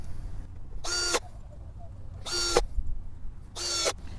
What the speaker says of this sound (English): If I'm using an electric drill, I want to put the torque setting down pretty low.